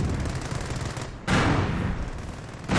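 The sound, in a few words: machine gun firing in the video game Company of Heroes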